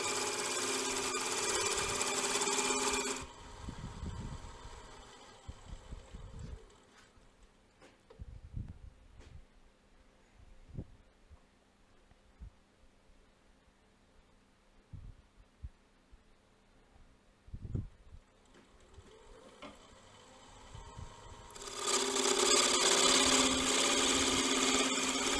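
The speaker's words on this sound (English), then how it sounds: "you'll see me turn the lathe on and off and look at the shape" A wood lathe turning a vessel hums loudly, drops to near silence while stopped with faint knocks and handling noises, then spins back up to a steady loud whir near the end.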